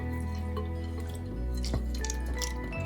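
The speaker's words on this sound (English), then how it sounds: "I'll add some more water as you want it to completely submerge the chicken." Water poured over a whole raw chicken in a brine bath, with a steady splashing, dripping pour and small liquid gurgles heard close up, alone and without talk.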